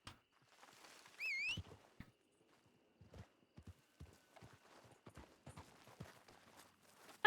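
Horse hooves clip-clop at a walking pace in a RedM roleplay game, a sparse run of soft, fairly close footfalls with quiet gaps, plus a brief whistle-like tone early on and a louder burst at the very end.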